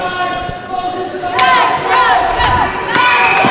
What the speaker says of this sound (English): The Lancaster crowd rallying behind them again